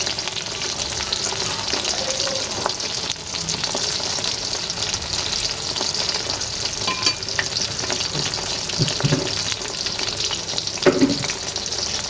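Snacks made from wheat-flour dough with boiled potato deep-fry in oil with a strong, steady crackling sizzle and bubbling, plus a few soft knocks of stirring. No voices are heard.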